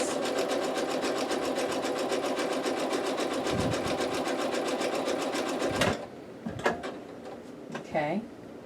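A sewing machine runs a fast, steady stitching whir for about six seconds while stitching and backstitching, then stops. Brief clunks and handling knocks follow, and a voice speaks faintly near the end.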